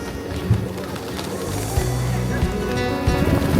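Pigeons cooing and fluttering at Boudhanath stupa square while a man scatters feed, a steady crowd of birds close by over a busy outdoor hum of people and activity.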